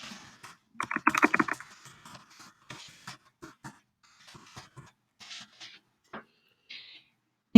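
Someone types text on a computer keyboard while annotating a PDF, producing a burst of rapid keystrokes followed by sparse, separate taps against near silence, ending in a sharp loud thump.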